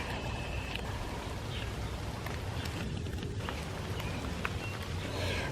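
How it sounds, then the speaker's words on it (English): Steady rain falls over a garden, a dense even hiss with scattered droplet taps throughout, continuous and close. "I love a rainy day."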